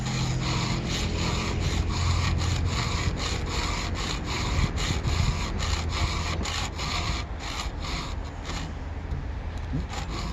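A hand file rasps steadily across a chainsaw cutter during rip-chain sharpening, its rapid back-and-forth strokes close and continuous for the whole stretch with no talking.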